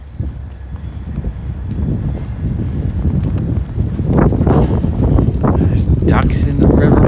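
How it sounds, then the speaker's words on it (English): Gusty wind buffets the microphone during a New York City snowstorm, with low rumbling bursts that grow stronger toward the end, while a person talks. "Windy."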